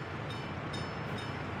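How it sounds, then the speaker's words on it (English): A train in the Soviet-era city-building game Workers & Resources: Soviet Republic rumbles steadily at a distance, a continuous low rolling drone with faint higher squeaks and no speech over it. "There's a train waiting somewhere."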